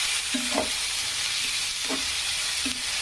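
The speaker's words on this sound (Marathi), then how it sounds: "हा पांढरा कांदा आहे आणि सुनेरा होईपर्यंत असं छानपैकी तळून घ्यायचं" Finely chopped white onion frying in a pan for anda bhurji, a steady close sizzling hiss broken by a few brief stirring scrapes.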